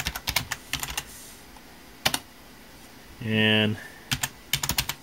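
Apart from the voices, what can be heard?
typing the Windows 7 product key on a keyboard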